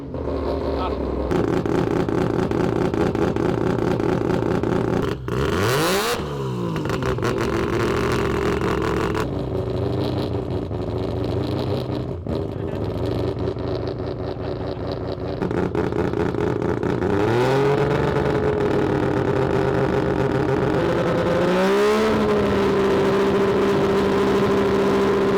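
A three-rotor rotary engine on the dyno is revved repeatedly, rising in buzzy, rasping sweeps toward 5,000 RPM and dropping back to a loud, busy idle between pulls.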